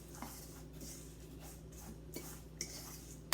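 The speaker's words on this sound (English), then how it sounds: "I'm just going to get a fork and I'm just going to mix up all my dry ingredients just like this" A fork mixes dry ingredients like oatmeal in a bowl, giving faint scraping strokes and a few light clinks against the bowl at a quiet level.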